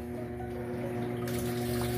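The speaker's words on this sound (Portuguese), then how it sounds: "E ela agora vai acabar de encher de água ali, ó." An Electrolux 8 kg washing machine fills with water, a steady, loud rushing hiss layered with a constant mechanical hum and pump tone, continuous with no talk.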